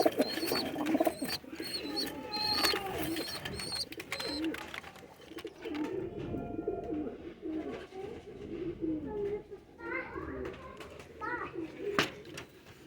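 A pair of teddy pigeons with three-week-old babies coo softly at moderate distance, with scattered bird calls and fluttering sounds, while children's voices and talk carry faintly in the background.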